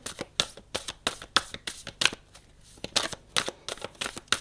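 Playing cards shuffled for a tarot reading, a rapid series of crisp riffling bursts at a steady rhythm with a brief pause midway, close and clear with no voices.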